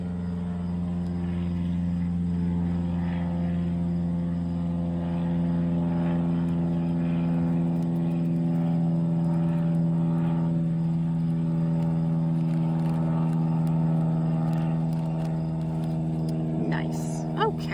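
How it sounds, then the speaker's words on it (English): Planes fly overhead as a continuous, loud, low droning rumble that lasts the whole stretch, with a voice talking over it. "Of course the planes are flying over while I'm doing my video."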